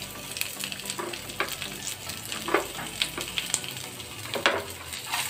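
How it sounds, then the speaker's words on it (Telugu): Onion pieces frying in a pan for onion-tomato chutney, a close crackling sizzle with repeated scraping and stirring strokes throughout. "ఉల్లిపాయ ముక్కలు వేస్తున్నాను."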